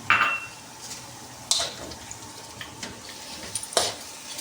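Pork adobo being stirred in a pan: soft scraping and light clinks of a utensil against the pan at irregular intervals, with a faint sizzle underneath.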